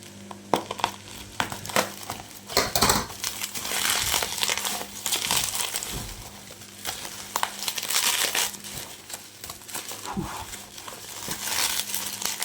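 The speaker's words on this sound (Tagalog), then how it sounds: "Medyo maingay guys ang plastic." Plastic packaging around a Hot Wheels BMW 2002 toy car crinkling and crackling loudly as it is opened by hand, in irregular bursts over a low steady hum.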